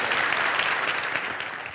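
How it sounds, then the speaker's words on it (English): An audience claps in a sustained round of applause, dense and fairly close, tapering slightly toward the end, with no talking over it. "You just keep giving me rounds of applause back there."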